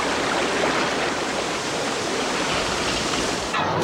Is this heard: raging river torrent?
yes